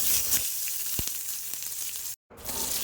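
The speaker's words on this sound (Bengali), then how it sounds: "মাছ ভাজার তেলে দিয়ে দিচ্ছি রাঁধুনি জিরে এবং পেঁয়াজ।" Radhuni, cumin and onion go into leftover fish-frying oil and sizzle steadily up close. A few sharp ticks and spatters sit over the hiss, and there is a brief dropout near the end.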